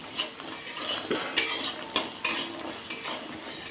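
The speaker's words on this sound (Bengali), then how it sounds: "এর জন্য আমি লবণ দিয়ে একটু হালকা করে ভেজে নিচ্ছি লাল করে বড়িটাকে" Lentil dumplings (bori) frying lightly with salt in a pan, with clinks and scrapes of a spoon stirring against the metal over a soft sizzle, sounding close and moderately loud.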